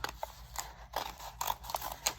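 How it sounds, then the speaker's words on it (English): Scissors cut through a stack of thin paper: a handful of quiet, crisp snips come at irregular intervals over faint room background, with no speech. "I'm just gonna take my scissors and I'm going to cut"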